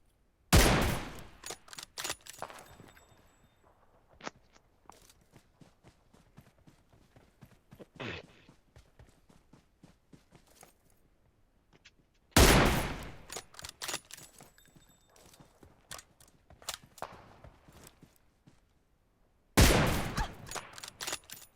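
Gunfire trades back and forth in the mobile battle game PUBG Mobile, loud bursts of rapid shots separated by quieter stretches of scattered single cracks, with three heavy volleys standing out.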